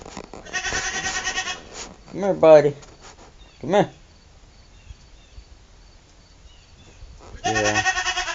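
A male goat gives two loud, close, wavering bleats, one near the start and one at the end, while a man calls out to it in between.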